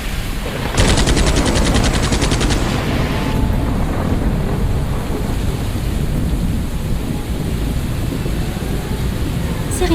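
Heavy rain pours steadily and loudly close by, with a burst of crackling thunder early on and a constant dense hiss throughout.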